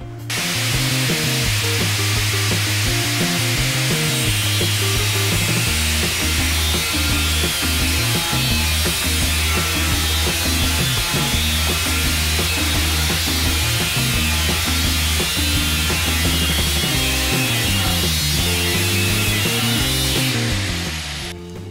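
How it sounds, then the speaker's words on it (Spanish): Angle grinder with a Fer Fandeli cutting disc moved back and forth through a cut, a loud, continuous whine whose pitch rises and falls in a repeating rhythm for about twenty seconds. "vamos a hacer el mismo corte con el esmeril."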